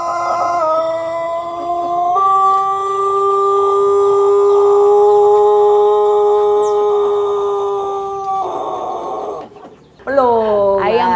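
A pelung rooster gives a long, drawn-out melodic crow lasting several seconds, loud and close, followed by a short broken call.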